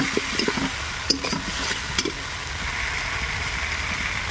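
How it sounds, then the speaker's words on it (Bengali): Tomatoes frying in an oiled pan for a chicken curry, a steady hissing sizzle with a few scraping stirs of a spatula early on, then continuous frying alone. "এর মধ্যে এবার টমেটোটা দিয়ে দিচ্ছি। টমেটোটা ভালো করে ভাজা হয়ে গেলে তারপর লঙ্কা হলুদ দেবো।"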